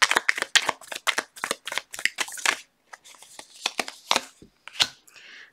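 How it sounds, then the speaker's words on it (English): Tarot cards shuffled by hand during a reading, a rapid run of crisp riffling flicks for about two and a half seconds, then looser, scattered slaps and slides of cards, close and fairly loud with no talking. "Last shuffle after this"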